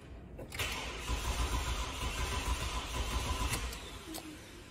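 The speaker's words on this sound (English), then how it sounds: "Engine cranks, but doesn't start." A 2010 Ford Territory engine cranks without starting, the starter motor whirring in a steady, rhythmic churn for several seconds at close range, then stopping, with a faint high electronic whine in the background.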